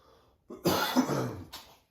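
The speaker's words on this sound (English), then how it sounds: "It's making me cough." Coughing and throat clearing while rinsing hot venison sausage seasoning off meat, a short burst of harsh, close coughs after a quiet start, ending abruptly.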